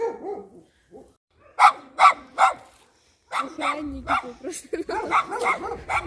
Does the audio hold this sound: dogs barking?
yes